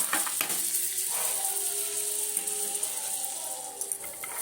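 Spice paste hitting a hot oiled pan while making vegetable soup, a steady close sizzle and hiss with light stirring rattles running throughout.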